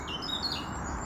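Birds squawk outdoors, faint high calls over a steady wash of wind or ambient noise, with no talking.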